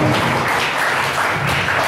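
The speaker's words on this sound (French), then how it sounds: "beaucoup plus d'applaudissements s'il vous plaît" A studio audience at a French television show applauds loudly and continuously, a dense wash of clapping close up that holds steady throughout, without voices.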